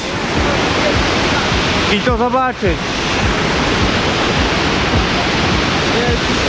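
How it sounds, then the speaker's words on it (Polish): The large waterfall at Plitvice Lakes roars in a constant, loud, broadband rush close by, and a voice speaks briefly over it partway through. "Piękny, wielki wodospad."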